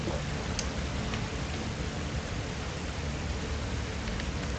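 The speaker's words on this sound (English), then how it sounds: "Always look behind the waterfall." Waterfall in the video game Tomb Raider: Anniversary: a steady, dense roar of rushing water that fills the whole stretch at an even level, with no talking over it.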